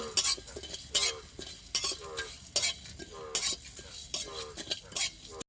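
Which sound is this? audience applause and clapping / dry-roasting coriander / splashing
dry-roasting coriander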